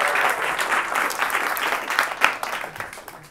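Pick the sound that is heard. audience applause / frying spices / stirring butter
audience applause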